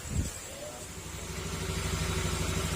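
A Honda Beat scooter engine idling smoothly with no misfire, a steady close mechanical hum with a low, even pulse, rising slightly as it runs.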